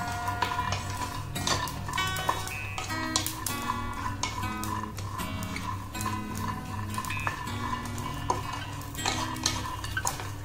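Dry garlic chutney ingredients roast lightly in a pan over low to medium flame, with continuous stirring and scraping as a spoon clinks and taps against the metal at a fairly quiet level.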